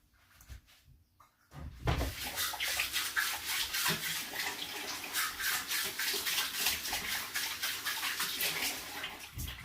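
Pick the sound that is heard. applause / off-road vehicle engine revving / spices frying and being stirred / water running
water running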